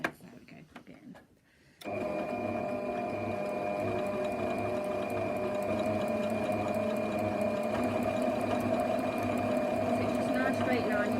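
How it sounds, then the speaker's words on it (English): A sewing machine stitching along the edge of a tote bag handle. A few quiet clicks come first, then the motor starts and runs in a loud, steady, rapid whir until the end. "I'm just going to sew about 1 millimetre from that edge there"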